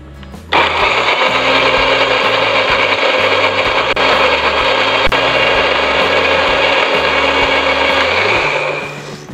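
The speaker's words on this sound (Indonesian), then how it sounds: "Dan blender bumbu sampai halus." A kitchen blender grinds a chili, garlic and shallot spice paste with a little water, starting abruptly and whirring loud and steady for about eight seconds before spinning down.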